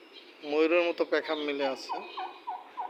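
Turkeys perched on a window ledge gobble in a rapid rattling burst close by, followed by a few softer clucks, with someone speaking over the calls.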